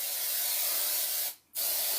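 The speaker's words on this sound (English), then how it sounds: "non-stick spray. So we're going to shake that up. Spray all the sides." Non-stick cooking spray hissing steadily from a shaken can into a pan while cooking pork chops, close and loud, with one brief pause in the spraying before it resumes.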